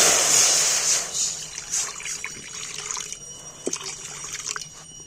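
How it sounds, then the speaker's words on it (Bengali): Water poured into a wok, a rushing splash and hiss that fades after a second into soft bubbling and a few small clinks, close and alone. "আবারও কড়াই জল দিয়ে দিই"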